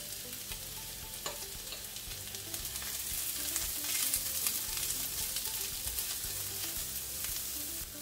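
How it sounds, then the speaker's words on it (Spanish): Onion and garlic sauté in a pan with a soft, steady sizzle and occasional light stirring, heard quietly and without any talk. "Y el ajo y seguimos sofriendo otro par de minutos."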